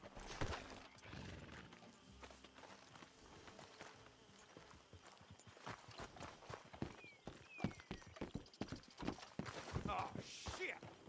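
Horse hooves clop unevenly on hard ground in the video game Red Dead Redemption 2, amid rustling and scattered thumps, with voices talking intermittently over the movement.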